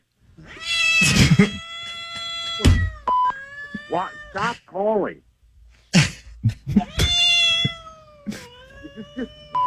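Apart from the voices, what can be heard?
recorded cat meowing played over the phone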